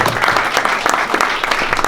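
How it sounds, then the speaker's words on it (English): An audience at an International Women's Day conference claps for guest speaker Marie Costa, giving steady, fairly loud applause with no voices over it. "Let's give a round of applause to Marie Costa."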